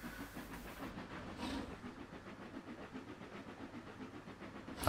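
A train passing in the Trainz railway simulator game, a steady rumbling and hissing rail noise with rhythmic texture that holds moderately loud for several seconds, without talk.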